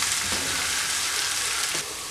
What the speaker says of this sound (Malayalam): ഇനി പച്ചമുളകും ഇഞ്ചിയും വെളുത്തുള്ളിയും ഇതെല്ലാം ഒന്ന് നന്നായിട്ട് മൂപ്പിച്ചെടുക്കണം.